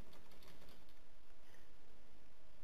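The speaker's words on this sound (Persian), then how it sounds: "اینو تایپ میکنم" Steady, continuous keystrokes on a computer keyboard while typing in Microsoft Word, close and fairly loud with no talking.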